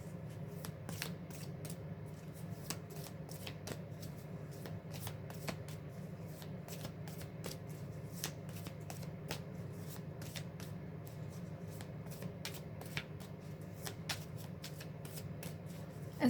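Tarot cards are shuffled by hand in a quiet room, a soft, close run of repeated riffling flicks and slides that carries on steadily throughout.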